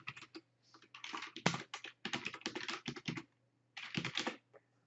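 Fingers type an email address on a computer keyboard during a Bitcoin mining setup on a Windows PC, rapid clicking keystrokes in uneven bursts with short pauses, close and clear, with no voices.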